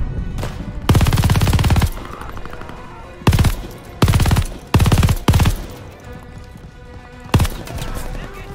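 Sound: gunfire in video game Call of Duty: Vanguard

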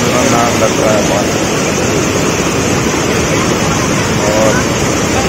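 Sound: water rushing through opened dam gates

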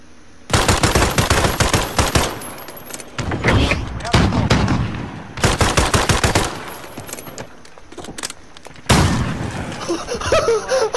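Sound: gunfire in Call of Duty Modern Warfare video game

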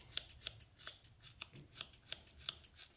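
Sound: scissors cutting sheepskin for mittens

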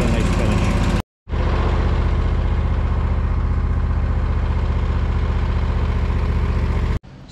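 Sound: lawn mower mowing and chopping fall leaves

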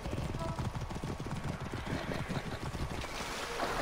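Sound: horse hooves galloping in Assassin's Creed Origins video game

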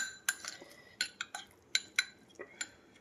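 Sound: spoon scooping oil, clinking against dish

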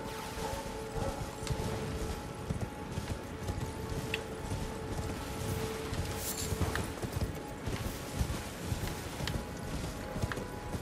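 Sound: horse galloping hooves in Elden Ring video game

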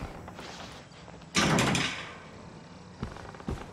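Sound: locked door being tried in Outlast, from a video game

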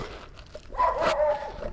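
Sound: dogs barking

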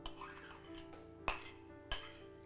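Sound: chopped tomato put into a bowl

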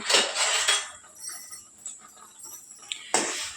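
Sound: stirring semolina in a pan

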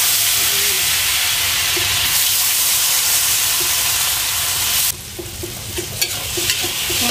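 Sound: tofu frying in leftover egg oil

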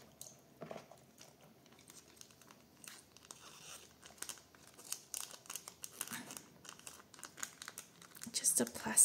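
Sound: paper being rubbed off a magazine transfer

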